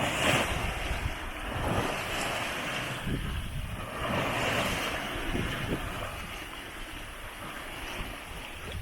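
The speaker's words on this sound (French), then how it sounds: "c'est des vagues courtes" Short, choppy sea waves slap against a sailboat cruising off southern Sardinia near Cagliari, a steady washing roar with gusts of wind buffeting the microphone, no voices.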